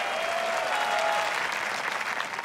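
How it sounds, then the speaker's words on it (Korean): Audience in a Korean TV music show studio applauding military family members, a dense continuous burst of clapping with crowd noise that stays steady throughout. "여러분 큰 박수 부탁드립니다"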